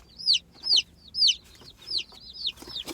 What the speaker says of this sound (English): I was expecting like 6 chicks, guys. And the box, there's 26 in here.